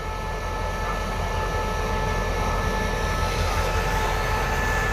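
Express train No. 52 from Chiang Mai to Bangkok at Nakhon Lampang station, a steady loud engine drone with a constant rumble and faint tonal whine throughout, no talk.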